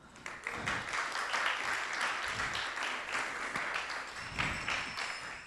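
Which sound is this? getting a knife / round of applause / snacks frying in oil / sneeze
round of applause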